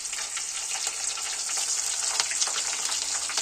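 Nigella seeds (kalo jeera) sizzle steadily in hot cooking oil in a pan, a close, continuous crackling fry with scattered sharper pops throughout and no one speaking.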